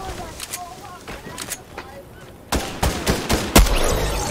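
Video game gunfire during a blue-weapons-only match, a spore gun and pistols among the arms: scattered shots early, then a denser loud burst of rapid fire from midway, with players talking over it.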